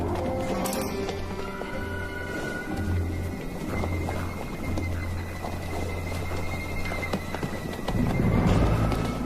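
Horse movement in the wild, with hooves clopping and shuffling through a busy outdoor scene, moderately loud, with a heavier burst of movement toward the end.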